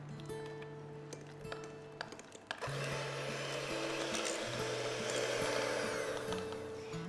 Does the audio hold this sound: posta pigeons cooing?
no